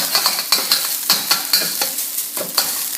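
Fried rice gets stirred and turned in a hot pan with a utensil, a continuous loud sizzle broken by about a dozen sharp scraping strikes at an uneven, quick rhythm, close up and without speech.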